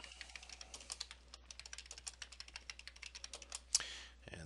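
A password is typed on a computer keyboard during a software install: a close, quick run of light key clicks in an uneven rhythm, ending with one firmer keystroke.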